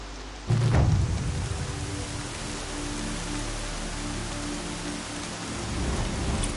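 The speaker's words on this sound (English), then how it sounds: "Here comes the rain." Steady rain in the video game Horizon Zero Dawn, a broad hiss of downpour that swells in after a low thunder-like rumble and continues evenly, with no voices.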